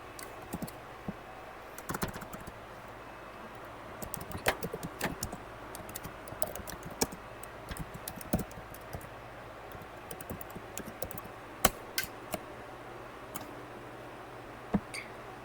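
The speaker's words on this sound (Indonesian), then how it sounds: "Berikut adalah kode yang harus diketikkan di dalam terminal." Someone types commands into a terminal on a computer keyboard, with soft, close keystrokes in irregular bursts and occasional louder key taps over a quiet room hum.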